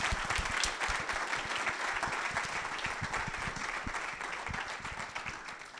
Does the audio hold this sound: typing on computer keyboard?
no